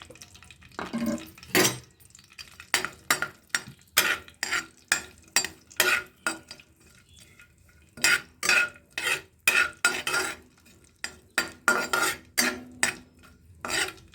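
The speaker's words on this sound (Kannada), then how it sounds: "ಸ್ವಲ್ಪ ತುಪ್ಪ ಬಿಸಿಯಾದ ನಂತರ ಗೋಡಂಬಿ ದ್ರಾಕ್ಷಿ ಬಾದಾಮಿಯನ್ನು ತುಪ್ಪದಲ್ಲಿ ಹಾಕಿ ಉರಿಯಿರಿ" Cashews, raisins and almonds frying in ghee for watermelon peel halwa, stirred with a metal spoon in rhythmic scraping strokes that come in rapid bursts over a soft sizzle, close and with no talk.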